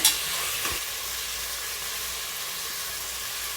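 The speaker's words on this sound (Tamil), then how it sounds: "இஞ்சி பூண்டு பேஸ்ட் போட்டுக்கோங்க. நல்லா பச்சை வாசனை போகட்டும். நல்லா கிளறி விடுங்க." Ginger garlic paste fries in a hot pan while being stirred, giving a steady, close, loud sizzle with a brief scrape near the start and no voices.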